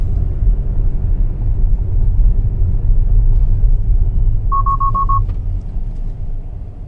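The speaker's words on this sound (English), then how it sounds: "It would also warn you with a warning like this when you're about to hit a car in front of you." A Tesla Model S forward collision warning chime, a quick series of about five short beeps at a single pitch, heard over a steady low cabin and road rumble.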